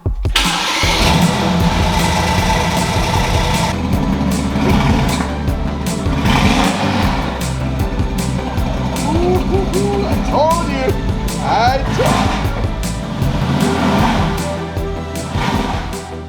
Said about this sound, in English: We are now ready to do the first startup on the SSR Catless downpipes.